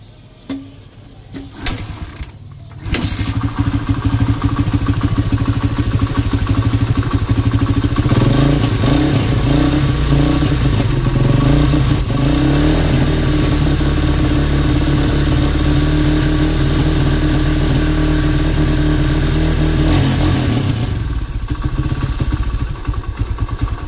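A Barako motorcycle engine starts after a few knocks, then idles loudly and steadily close by with a continuous mid-range rumble and light mechanical clatter for about twenty seconds before dropping off.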